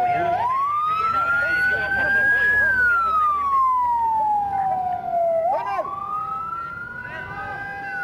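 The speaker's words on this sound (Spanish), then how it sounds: "Las ambulancias empezaron a llegar al sitio" Emergency vehicle siren wailing as ambulances arrive at the scene of a volcanic disaster, its pitch sweeping slowly up and down in long loud cycles over steady background rumble.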